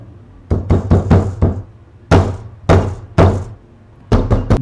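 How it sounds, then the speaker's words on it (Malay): Loud, hard knocking on a bedroom door as a horror story sound effect, arriving in sharp bursts: a fast group of four, single heavy blows, then another quick cluster, each strike close and forceful. "tiba-tiba pintu biliknya diketuk dengan kuat."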